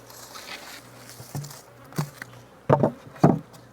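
Honeybees in an opened hive hum with a steady, close insect drone, broken by a few sharp knocks and thumps from handling the wooden hive parts.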